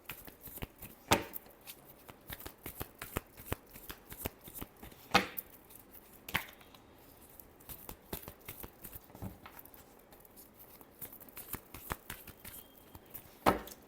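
Tarot cards shuffled by hand make quiet, irregular riffling and slapping bursts, close and soft, with brief pauses between bouts.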